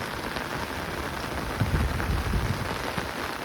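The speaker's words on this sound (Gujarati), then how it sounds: "વરસાદ આજ બંધ રહે એવું લાગતું નથી" Steady rain falls over a garden of coconut palms, a dense even hiss with a fuller, heavier patch of drumming near the middle, no voices present.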